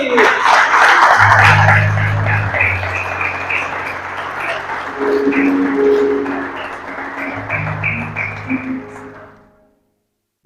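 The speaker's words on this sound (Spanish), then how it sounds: "Den un aplauso a Cristo." Church congregation applauding during a special service for teachers, broad clapping through most of the clip over organ-like sustained tones, then fading out to silence near the end.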